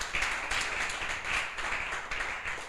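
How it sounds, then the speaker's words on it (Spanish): Applause from a church congregation, steady crowd clapping with a rhythmic pulse, moderately close and filling the whole moment. "Denle un aplauso al Señor"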